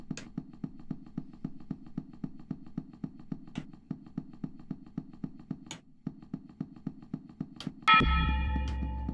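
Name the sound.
church bell ringing loudly in video game Fear & Hunger 2: Termina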